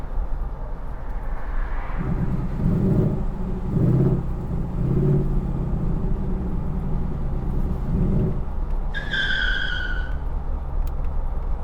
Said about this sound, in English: the road noise in this thing is actually not bad at all